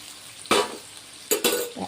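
A splash of water poured from a plate into a pan of frying paneer and cauliflower curry, bursting into sharp hissing sizzles, one strong surge followed by two more quick bursts up close.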